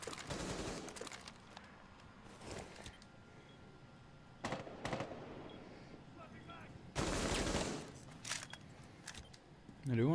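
Shotgun blasts sound in a Rainbow Six Siege match, several sharp separate bangs spaced over ten seconds amid game noise, the shots aimed at a mirrored window.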